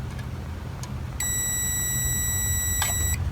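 A continuity tester sounds one steady electronic beep tone for about two seconds while probing the voice coil of a speaker in a Crosley 66TC radio, over a low background hum.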